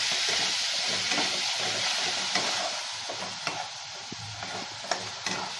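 Ginger garlic paste sautéing in 2 to 3 tablespoons of hot ghee, a loud continuous close sizzle with scattered scraping stirs and small clicks, no voices.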